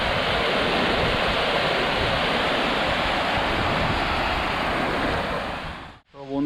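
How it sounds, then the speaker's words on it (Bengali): Water rushes forcefully out of a dam in a loud, continuous roar, like heavy surf, before cutting off abruptly near the end. "দেখুন জলটা কি ফোর্সে বেরিয়ে আছে। এটা একটা বাঁধ"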